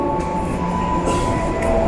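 Steady rumble of the Serayu passenger train heard from inside a carriage, a continuous loud low roar with faint rattling and a high thin whine running throughout.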